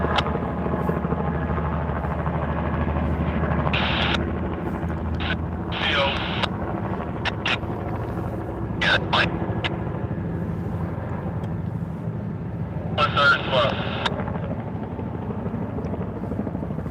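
A helicopter flies overhead on its approach to land at Erlanger hospital in Chattanooga, a steady low rotor drone heard throughout with wind buffeting the microphone and a few brief bright bursts on top.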